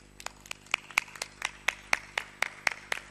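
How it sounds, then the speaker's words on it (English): A small audience claps for a speaker taking the stage at a plenary session: a sparse, uneven patter of individual hand claps, fairly close, with distinct sharp slaps spaced irregularly across the clip. "big round of applause for Mary"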